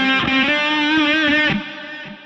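An electric guitar with its tone control opened up rings out in a sustained, bright, slightly distorted note for about a second and a half, then fades, loud and close.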